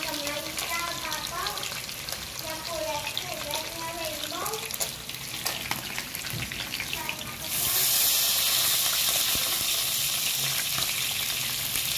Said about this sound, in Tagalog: Oh, ganda ng ating pagkaprito dito